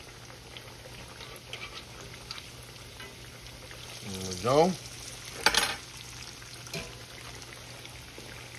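Hot water cornbread frying in a pan of oil until golden brown, a soft steady sizzle with a few stirring and scraping bursts as the pieces are moved around; a voice briefly speaks.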